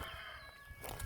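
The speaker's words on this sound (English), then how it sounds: "Hello, rooster." A rooster in a spring vegetable garden gives a short, faint clucking call outdoors, brief and low in level against quiet background.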